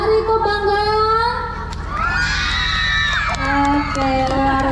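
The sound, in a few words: audience cheering and clapping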